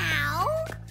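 A cartoon cat's meow, a single drawn-out rising and falling cry that quickly trails off, close and fairly loud.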